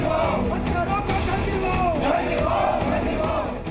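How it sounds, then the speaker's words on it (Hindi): A dense crowd on a late-night candle march through the streets of Lucknow raises chanted slogans and shouts demanding justice, loud and close, with a continuous wash of voices throughout. "लखनऊ की सड़कों पर देर रात निकली ये भीड़ इंसाफ मांग रही है"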